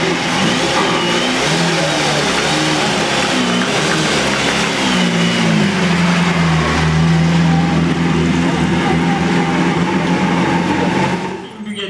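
A Bugatti 2.3-litre twin-cam engine revs loudly and steadily at close range, its pitch rising and falling across the whole stretch, with a brief dip near the end.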